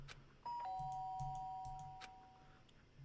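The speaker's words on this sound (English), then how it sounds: "Sharp sound of the doorbell pierced my sleepy haze and pulled me back to the real world." A doorbell rings in the video game Danganronpa Trigger Happy Havoc, a clear two-tone electronic chime sounding once and ringing out against a faint low hum.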